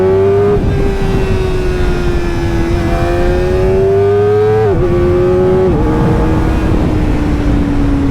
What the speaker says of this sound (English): it's just so satisfying going up the gears, going down the gears